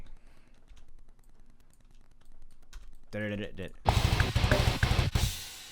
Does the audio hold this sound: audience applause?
no